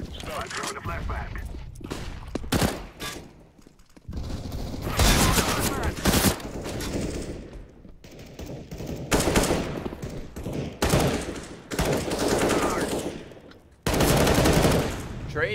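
Rapid gunfire in a Counter-Strike esports match, with repeated loud bursts and volleys of shots throughout, over crowd and caster noise and talk.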